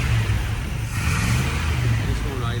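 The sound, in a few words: Scout engine running rough after carburetor install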